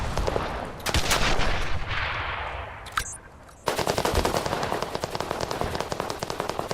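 Bursts of machine-gun fire ring out in a World War II video game, with rapid rattling volleys, a sharp pause, then a sustained loud stream of automatic shots close to the listener.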